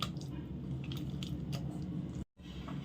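Chocolate cake batter with milk added is cut and folded by hand, making soft, close, wet squishing and scraping sounds with a brief silent gap near the end.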